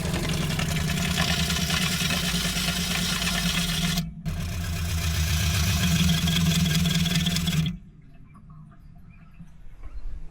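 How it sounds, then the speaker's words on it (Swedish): Loud, steady buzzing whine from an electric water pump mounted in the floor below the kitchen sink of a motorhome. It runs continuously, cuts out briefly, starts again, then stops, leaving a quiet background. "Vi tycker ju att våran vattenpump, den väsnas lite väl mycket"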